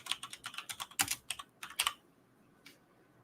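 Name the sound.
typing on a computer keyboard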